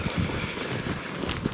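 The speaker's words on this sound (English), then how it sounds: "Windy, windy." Gusty wind on a winter mountain in the Presidential Range, steady close rumbling buffets on the microphone with a few stronger low thumps.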